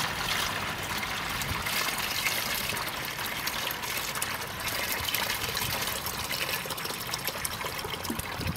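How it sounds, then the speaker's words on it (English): Nutrient solution pours through a screened funnel into a bucket, a steady, fairly close rush and trickle of liquid that runs without a break and with no voices. "we're going to dump it through this funnel that has the screen in it, and that process also helps mix it"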